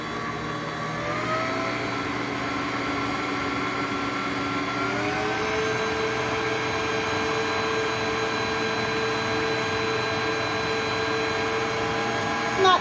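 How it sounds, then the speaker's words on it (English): An electric stand mixer runs continuously while mixing fruit tart filling, a steady mid-pitched motor whir with a slight rise in tone partway through, close and even throughout. "A standing mixer, hand mixer, or your hand"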